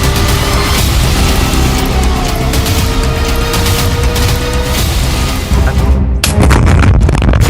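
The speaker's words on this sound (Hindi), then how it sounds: "पहला धमाका" Explosions in the Gaza war roar as a loud, sustained rumbling blast with continuous heavy low rumble, then a sharp renewed burst near the end.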